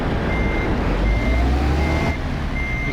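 A truck in Euro Truck Simulator 2 reverses with a steady, evenly spaced electronic beep over the low rumble of the idling diesel engine. The beeps are clear and repeat several times throughout.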